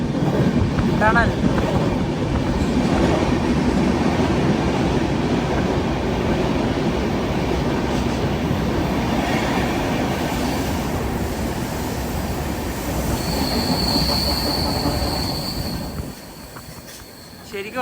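A Humsafar Express with three locomotives runs at speed, heard from inside a 3AC coach as a loud, steady rail rumble with a long, thin wheel squeal midway. The noise eases near the end.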